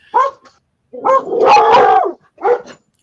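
Dogs bark in loud, close bursts: a short yap, then a longer run of overlapping barks, then one more yelp.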